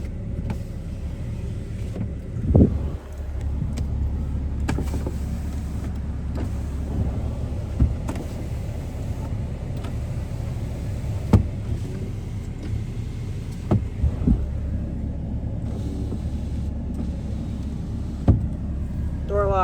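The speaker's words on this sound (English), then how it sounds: "Power rear window." The power rear window of a 2012 Ram 2500 Cummins truck hums steadily inside the cab under a low engine rumble. A few sharp clicks and clunks punctuate the motor's whir.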